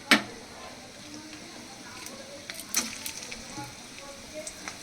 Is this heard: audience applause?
no